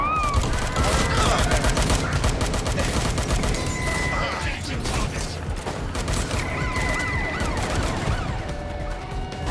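Rapid gunfire in the video game Watch Dogs Legion, with dense crackling bursts of shots throughout, wailing sirens and sweeping electronic tones layered over the firefight.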